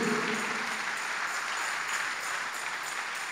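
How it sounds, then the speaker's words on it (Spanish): Applause from a church congregation, a steady wash of many hands clapping at moderate distance, continuous and even throughout. "me estoy oyendo el aplauso de la gente que está aquí"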